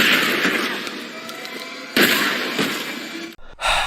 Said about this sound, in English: and that is the sound of the gunshots